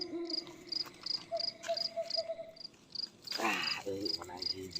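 Crickets chirping in short, regular high-pitched pulses, fairly faint, with a few other night sounds and a brief louder noise partway through.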